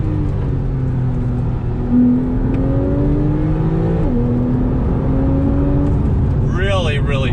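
Strong, close engine tone from a Porsche 911 4S under acceleration climbs through the revs, dips sharply at an upshift and keeps building, with a voice speaking briefly over it at the end.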